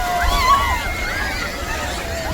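Sea waves washing in at Kanyakumari beach, a steady sloshing wash of water with a low rumble throughout, under a busy background of people talking and playing nearby.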